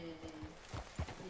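A horse's hooves clop a few times after being spurred in the video game Red Dead Redemption, soft, quick, uneven beats over a faint background hum.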